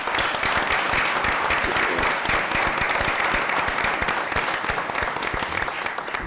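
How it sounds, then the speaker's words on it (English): An audience at a school district event honoring teachers of the year gives a round of applause: many hands clapping in a dense, steady burst that holds at an even loudness throughout. "Let's give them a round of applause."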